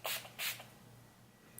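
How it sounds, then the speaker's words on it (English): Wet n Wild makeup setting spray is misted in two quick, close hissing bursts, the second following right after the first, then a brief faint puff at the end. "I'm gonna be using the setting spray."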